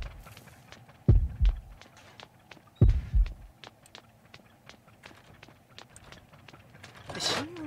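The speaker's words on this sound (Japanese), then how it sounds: "で心音がちょっと鳴ってから消えるを繰り返してますね。" A heartbeat warning sounds in the mobile horror game Horrorfield, with two heavy low double thumps a couple of seconds apart over a faint ambient hum and light ticking.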